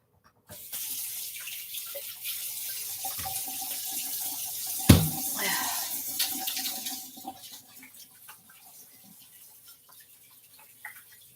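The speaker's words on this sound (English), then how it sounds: "Now I'm going to wash my hands." Tap water runs steadily into a kitchen sink during handwashing. The flow continues for several seconds, with a brief clatter partway through, then fades to quieter splashes and drips.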